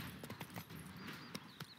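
Roach, a horse in a fantasy video game, moves along with steady hoof clip-clops over a continuous backdrop of ambient game sound and wind.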